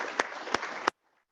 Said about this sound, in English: I want everybody in this room to give a round of applause for Terry